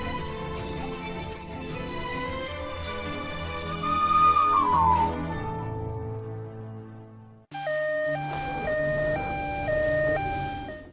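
An ambulance siren wails with a steady rising and falling tone, loud and close, then cuts off and resumes as a two-tone alternating pattern, with no voices over it.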